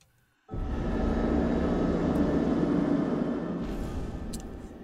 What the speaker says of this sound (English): Okay, so there's a fucking helicopter.